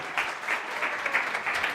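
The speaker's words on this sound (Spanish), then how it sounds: "Un aplauso para el actor." A crowd at a church gathering claps for an actor, brief steady applause of many hands at moderate loudness with a slight pulsing rhythm.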